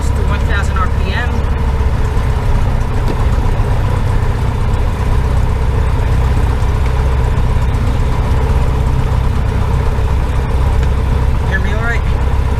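A Cessna 150H light aircraft's engine idles at 1,000 RPM, giving a steady, loud, low droning rumble that holds without a break, with faint voices now and then.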